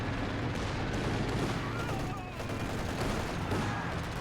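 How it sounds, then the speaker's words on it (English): An incendiary mortar strike called in during a competitive video game match: a rapid, dense barrage of gunfire-like bursts and booms, loud and continuous throughout, with no clear gaps. "Rather off incendiary mortar ability call in here."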